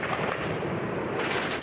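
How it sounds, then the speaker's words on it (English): A dense, unbroken roar of heavy gunfire, loud and continuous from start to finish. "as dawn breaks, the assault begins with a hail of gunfire"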